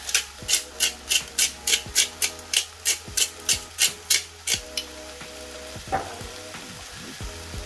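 Onions with turmeric and black pepper stirred in a pan: about fourteen quick rhythmic scraping strokes with a faint sizzle beneath, then quieter frying with a couple of utensil knocks.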